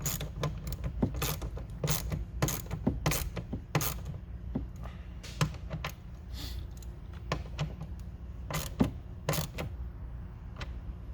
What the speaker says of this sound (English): Take your 10mm ratchet and tighten that up.